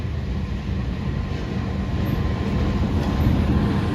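A freshly serviced vintage CC 203 diesel locomotive shunting at a Yogyakarta depot yard, giving a steady, loud low rumble of engine and rolling rail noise that builds slightly throughout.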